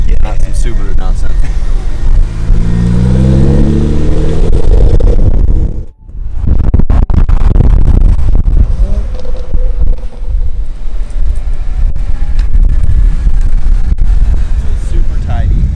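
A BMW 335i with the N54 engine passes at full power, a loud, sustained engine roar that sweeps up through rising gear pulls, dips briefly, then surges on again under buffeting wind.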